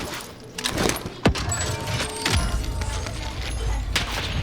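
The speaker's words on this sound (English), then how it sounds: "Oh, I heard a snipe from the left." A sniper rifle cracks once, sharp and loud, in the Warzone battle-royale game, followed by a few softer thuds and impacts over steady in-game ambience.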